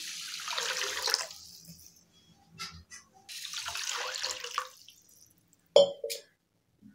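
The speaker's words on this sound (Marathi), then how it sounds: "याच्यामध्ये आता भरपूर पाणी घालायचं." Water pours from a tap onto washed rice in a pot, two gushing streams separated by a pause, then a few splashes and drips, close and fairly quiet.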